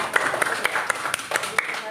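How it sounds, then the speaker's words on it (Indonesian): A few hands clapping in a small classroom-style session on the names of Allah, about eight sharp evenly spaced claps heard beneath ongoing talk. "Oke, tepuk tangan berdua."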